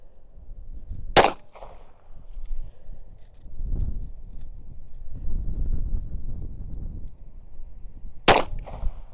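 Gusty wind buffets the microphone at an outdoor shooting range, a low, uneven rumble that rises and falls, and two sharp, loud gunshots crack near the start and end.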